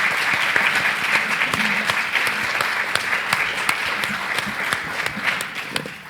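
An audience at a community history forum gives steady applause to the panelists, with dense clapping from a roomful of people heard on its own for several seconds.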